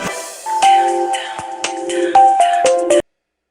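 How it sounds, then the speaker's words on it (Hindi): A phone ringtone plays a bright, repeating chiming melody for about three seconds, loud and close, then cuts off abruptly into silence. "रीना, कब से फोन लगा रही हूँ तुझे"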